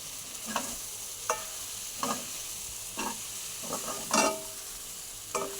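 Soaked puffed rice stirred into a sizzling tempering in a pan, a quiet steady frying hiss with repeated scraping strokes of a spoon about once a second.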